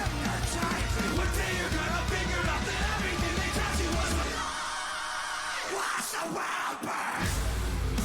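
A singer screaming during a live performance, a loud harsh vocal over dense band sound that breaks off midway into sparser, quieter moments.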